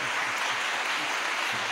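Audience at a Tamil pattimandram debate stage event applauding, a dense steady wash of clapping throughout the short stretch with no voices.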